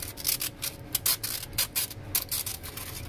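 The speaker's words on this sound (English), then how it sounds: "you're going to sand the rough edges" Sandpaper rubbing the rough edges of a fiberglass tee, heard as steady, close back-and-forth scraping strokes in a quick, even rhythm.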